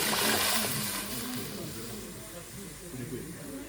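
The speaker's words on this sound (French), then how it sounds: "on met toute l'ail dedans" Garlic sizzling in a hot frying pan, a steady soft crackle and hiss that starts louder and settles into a continuous fry, with no voices over it.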